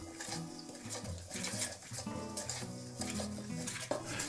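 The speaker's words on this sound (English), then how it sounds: "Now using an ordinary dinner knife, gently cut the mixture together as shown." An ordinary dinner knife cuts through sticky dumpling mixture in a bowl, giving soft repeated scraping and tapping against the bowl, close and moderately loud, with faint background music underneath.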